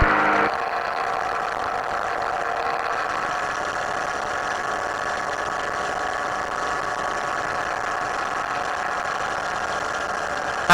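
A Chinook ultralight aircraft engine running in flight at about 4,600 rpm, a steady close droning hum with a constant buzzing tone that holds evenly throughout, with no speech.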